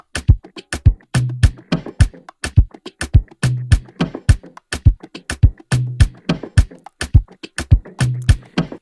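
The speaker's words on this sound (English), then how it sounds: "And in context with the kick and the top loop, it sounds like this." An Afrobeat percussion loop built in FL Studio, with punchy kick drums and a busy top loop of clicks and hits in a steady, bouncing rhythm, loud and continuous with no talking.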